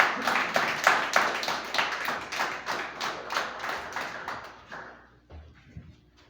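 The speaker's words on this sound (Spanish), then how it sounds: "Hermano, denle un aplauso al Señor." A church congregation gives a lively round of applause, with rhythmic, fairly close clapping for about five seconds before it trails off into quiet room noise.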